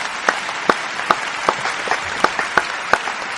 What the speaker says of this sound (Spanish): un gran aplaudiment per ells